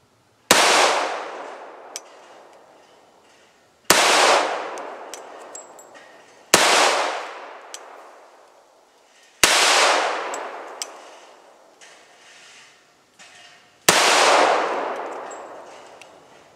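.45 pistol firing handloaded rounds at a range: five loud, sharp shots spaced a few seconds apart, each followed by a ringing decay and a few faint clinks in between.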